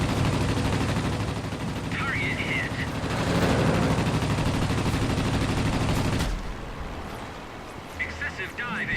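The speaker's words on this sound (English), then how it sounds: "we've just got to get in really close to get these guns being effective" Machine guns of a Spitfire Mk I firing in World of Warplanes, rapid bursts of gunfire over a steady engine drone, cutting off abruptly, with someone talking throughout.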